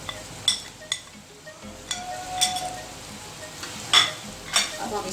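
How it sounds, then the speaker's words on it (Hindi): Vegetables frying in a pan while being stirred with a spoon, a low sizzle broken by several sharp metallic clinks and scrapes at irregular intervals; no speech. "तो सब्जियां हमने फ्राई कर ली हैं"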